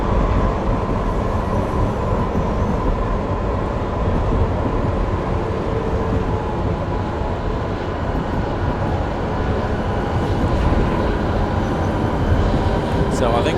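Tram in Train Simulator Classic running through an underground section, a steady loud rumbling roar of wheels and motor echoing continuously throughout, with someone talking over it.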